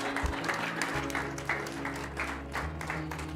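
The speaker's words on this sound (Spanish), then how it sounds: "Un aplauso para Mirencita, hágame el favor." A church congregation claps together, a dense close burst of applause that keeps going evenly for a few seconds, with a low hum of voices underneath.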